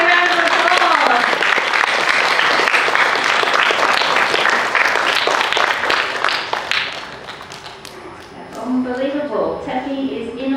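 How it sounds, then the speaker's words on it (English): School assembly audience applauding, a dense roll of many hands for several seconds that tapers off before an adult voice resumes speaking. "Let's give Tepi a round of applause!"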